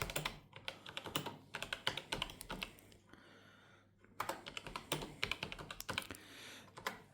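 Rapid clicking keystrokes on a Zerowriter keyboard, close and steady in dense bursts, with a short pause around the middle before the typing resumes.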